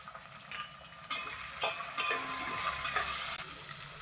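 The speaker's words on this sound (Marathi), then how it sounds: "यात मटार, तोंडली, थोडीशी धने जिऱ्याची पावडर व थोडासा गोडा मसाला घालून परतून घेऊ." Peas and ivy gourd with coriander-cumin powder and goda masala sautéing in a pan for masale bhat, a close crackling sizzle broken by several stirring scrapes.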